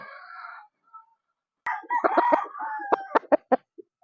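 Gamefowl chickens at a breeder's yard give a drawn-out crow, then a burst of loud, close clucking with several sharp, rhythmic cackles.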